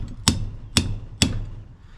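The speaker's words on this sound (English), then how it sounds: "So I'm going to get my sharpened chisel, line it up with the side of the sealed unit and hammer," A hammer strikes a sharpened chisel into the sealed unit of a fridge/freezer three times at an even pace, each blow a sharp metallic crack over steady background noise.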